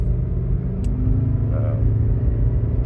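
A Toyota RAV4 hybrid accelerating on the way onto a highway while towing, giving a steady, continuous low engine and road rumble close by that holds even throughout.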